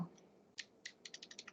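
Soft, quiet keystrokes on a computer keyboard, a few spaced taps and then a quick run of rhythmic clicks as a short layer name is typed in Photoshop.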